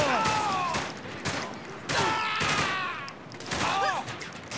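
Gunfire from Saints Row: The Third, a few sharp bursts of shots at steady loudness, mixed with other game sounds and whistling tones.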